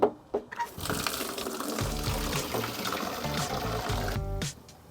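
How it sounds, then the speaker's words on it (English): Water poured into an Ice Barrel 500 cold plunge tub, a few knocks and then a steady close splashing pour that stops abruptly. "Let's throw some water in this bad boy."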